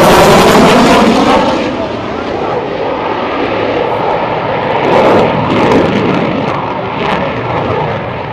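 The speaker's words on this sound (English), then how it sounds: "will reposition his FA-18 for the high-speed photo pass." F/A-18C Legacy Hornet Navy jet making a high-speed pass at a Florida airshow, a loud broad jet roar that swells and sustains with rumbling surges, with a commentator's voice faintly underneath.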